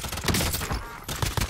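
M19 pistols fire in a fast, loud burst of overlapping shots during a Call of Duty Warzone match, with dense crackling impacts and a brief lull before more firing.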